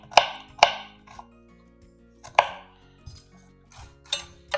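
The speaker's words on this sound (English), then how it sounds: "I cut the second half of this onion" A kitchen knife chops through an onion on a cutting board, with sharp knocks close by: two quick ones, another about two seconds later, then a few softer taps.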